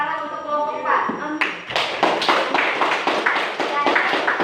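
A classroom of students applauds a group's presentation, the brisk, rhythmic clapping starting abruptly after a short spoken phrase and continuing in close, evenly spaced bursts.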